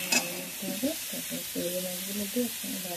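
Chilli and onion frying together for a prawn (chingri) preparation, an even sizzle under stirring scrapes, close by, with faint tonal background sound and no clear talk.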